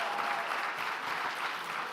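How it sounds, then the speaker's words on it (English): A large gala audience gives a standing round of applause for a college president, a dense, even roar of clapping hands heard for a couple of seconds with no talk over it. "let's stand and give a round of applause to the 19th president of Bennett College, Suzane Elish Walsh."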